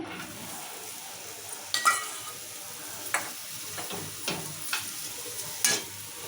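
Peanuts and coconut dry-frying together in a pan for a drumstick masala curry, with steady soft sizzling broken by several sharp scraping stirs of a spatula against the pan.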